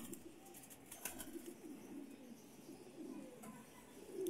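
Pigeons coo softly and faintly in the distance, with a few brief chirps and flutters over a quiet background hiss and no speech.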